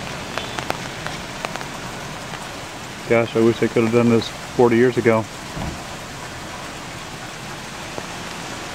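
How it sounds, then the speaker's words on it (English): Steady rain falls on the main business street of Capitola Village in winter, a constant soft hiss of drops on pavement throughout, with someone speaking briefly in the middle. "it's just not so busy today, the rain falling"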